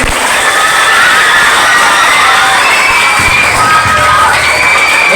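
Loud cheering and shouting from children at a school debate competition, a dense crowd roar with shrill whoops and voices layered over one another throughout.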